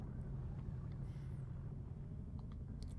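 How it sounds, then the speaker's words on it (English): A spaceship engine in the video game Elite Dangerous gives a low, steady rumbling drone with a faint rattling texture and a brief whine, holding at an even level throughout. "Sounds like my engine's falling apart here"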